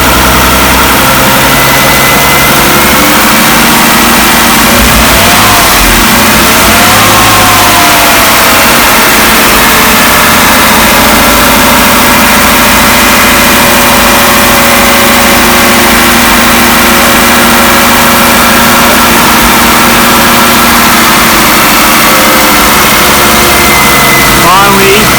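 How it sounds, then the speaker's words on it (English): A Jaguar XJS upgraded from 3.6 to a four-litre engine with an aftermarket ECU and a vacuum leak, idling roughly: a loud, continuous, close engine drone with uneven throb, and speech heard over it. "so it wouldn't idle very well, but it was running. A bit rough."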